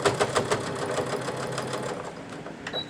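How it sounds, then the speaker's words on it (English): A sewing machine stitches steadily over a sleeve seam, finishing the seam allowances together. The rapid mechanical chatter is close and fairly loud and eases off near the end, with no talking. "I'm going to finish my seam allowances together, so I'm going to sew right over top of it"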